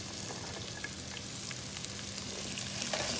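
Carrots tossed in with potatoes and spices frying in a pan for a Punjabi achari aloo gajar dish, a continuous dense sizzle, close and even, with faint stirring scrapes.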